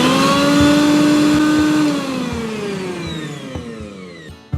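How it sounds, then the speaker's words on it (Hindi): A kitchen mixer grinder coarsely grinds pickle spices in its jar, its loud motor whine droning steadily and then sliding lower as it winds down, with rattling clicks near the end. "मसालों को हम मिक्सी के जार में ट्रांसफर कर लेंगे और उन्हें दरदरा पीस लेंगे।"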